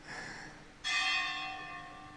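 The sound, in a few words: bell ringing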